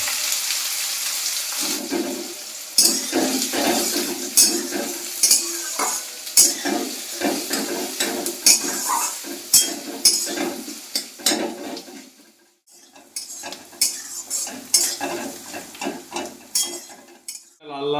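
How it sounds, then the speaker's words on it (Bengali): Onion fries in a pan for mushroom masala, with loud bursts of sizzling and repeated spatula scraping and clattering against the pan, a short lull midway, then more stirring up close. "পেঁয়াজটা দিয়ে লাল লাল করে পেঁয়াজটা ভেজে নেবো"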